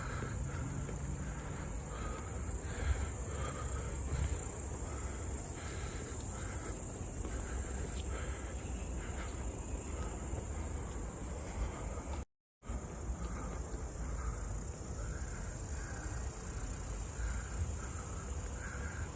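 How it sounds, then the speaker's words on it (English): Dense, continuous high-pitched chirring of grasshoppers fills the air by the Volga embankment in Nizhny Novgorod, Russia, a steady outdoor insect chorus with low background rumble and a brief dropout midway. "Can you hear the grasshoppers?"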